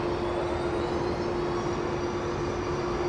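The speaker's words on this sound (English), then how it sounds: "That's our first of 2 Qantas A380 departures to come." A Qantas A380 airliner lines up on runway 34 left at Sydney Airport with a steady, loud, even jet engine roar and a constant hum that runs throughout without a break.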